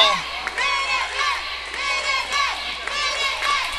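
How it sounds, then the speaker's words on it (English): Wrestling crowd at an RWA Legacy IV independent show loudly jeering the Minutemen tag team, a steady roar of mixed shouts and cheers with higher voices throughout, close and continuous with small swells. "Crowd's going after the Minutemen rather loudly"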